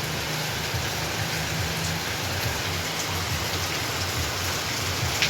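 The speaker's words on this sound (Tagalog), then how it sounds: "Grabe ang ulan, guys." Heavy rain pours in a dense, unbroken hiss on surrounding surfaces, steady and loud throughout with a faint low rumble underneath and no voices.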